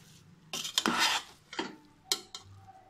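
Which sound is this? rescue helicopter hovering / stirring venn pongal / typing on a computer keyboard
stirring venn pongal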